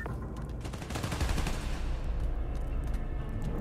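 Sustained, dense gunfire in the video game Spider-Man Miles Morales, with many rapid overlapping shots, loud and continuous.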